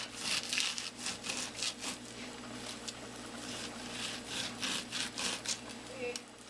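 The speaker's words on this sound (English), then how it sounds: "And now I'm going to trim off all the fat." A knife trims fat off raw beef tripe for Jamaican curry tripe and beans, making steady, rhythmic rasping strokes against a board. The cutting stays close and moderately loud throughout.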